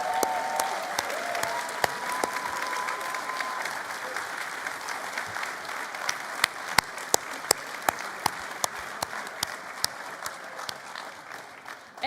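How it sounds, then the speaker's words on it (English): A party conference audience gives a sustained round of applause, a dense, even clatter of many hands that holds steady for about twelve seconds, with a few sharper claps standing out before it starts to fade. "and an extra round of applause."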